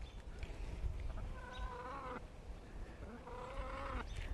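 Chickens clucking and squawking nearby in a few drawn-out calls, over a constant rustling outdoor background.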